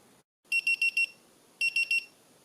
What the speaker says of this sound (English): That's basically what it's going to sound like if you're using it as an alarm clock on the side of your bed.